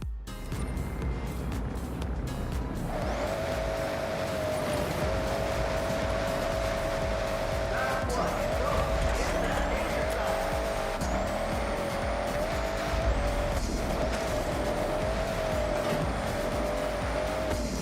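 Car engine roaring steadily in the Forza Horizon racing game, with a Hellcat among the cars, tires squealing and skidding over a dense, continuous mix of motor and road noise.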